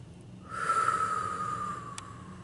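A single long, slow exhale of a deep breathing exercise, soft and airy at close range, easing off gradually with no talking.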